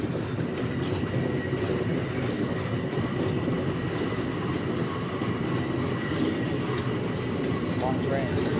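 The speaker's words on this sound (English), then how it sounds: "10-car train. 10-car consist." A long 10-car MTA subway train at the flood-prone 86th Street station in New York rumbles past steadily and loudly for the whole stretch, with continuous wheel clatter on the rails.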